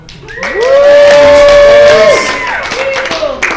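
A loud, sustained whooping cry rises and holds before trailing off, with a faint crowd noise underneath, from a live convention audience at Phoenix Fan Fusion 2022.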